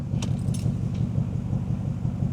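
A Porsche Cayenne V8 diesel idles up close with a steady, deep rumble, and a brief light jingle sits on top near the start.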